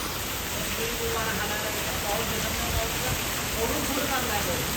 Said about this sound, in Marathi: येऊन 10च मिनिटात एवढा म्हणजे खतरनाक पाऊस झाला